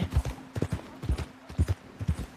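Horse hooves clip-clopping steadily while riding at a walk in Red Dead Redemption 2, even paired beats repeating close and clear with no talking over them.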